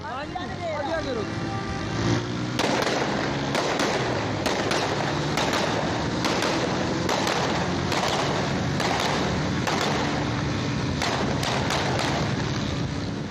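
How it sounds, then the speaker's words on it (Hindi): Gunfire rings out on a street in Rawalpindi: after a brief lead-in, roughly a dozen sharp, loud cracks come in quick irregular bursts over about ten seconds amid outdoor background noise. "मोहम्मद फयाज एक वीडियो में सरेआम रावलपिंडी की सड़क पर फायरिंग करता हुआ दिखाई दे रहा है"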